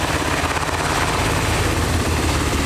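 A military helicopter hovers at a tank-days event in Trenčín. The rotor and engine make a loud, continuous broadband roar that stays steady throughout.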